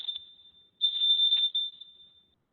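A workout interval timer beeps during a live kettlebell and plank session, a thin high electronic tone in a few short bursts followed by one longer sustained beep, close and otherwise quiet.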